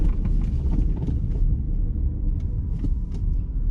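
Porsche Cayenne with the base six-cylinder engine and manual transmission, heard from inside while driving: a steady low engine and road rumble with faint cabin creaks and ticks.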